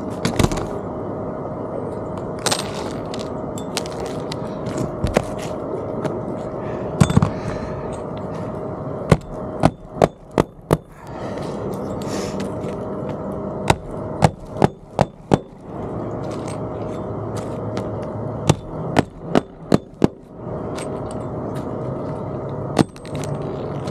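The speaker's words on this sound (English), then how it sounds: "We are down to basically just nailing off the ridge cap here." Nails are hammered into roof ridge cap during a TAMKO shingle roof repair, sharp irregular strikes, some in quick clusters, over a steady outdoor background.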